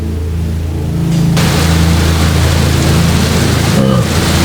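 Steady heavy rain and storm ambience from a narrative video game, a dense loud wash of falling water that swells after the first second and keeps up without pause, with no talking.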